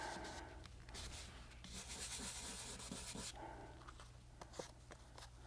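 A coffee filter rubbed over a card to apply ink in a snowflake masking technique, giving soft, close, scratchy rubbing strokes in uneven bursts over a low steady hum.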